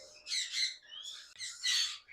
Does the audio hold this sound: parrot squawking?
yes